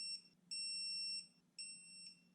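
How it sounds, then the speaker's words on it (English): A digital torque wrench gives three electronic beeps at its set torque while bolts and nuts are tightened on a 1997 Toyota RAV4 cylinder head. The beeps are steady, high and close, each roughly half a second long, over a low hum. "My digital torque wrench beeps when you reach the right torque"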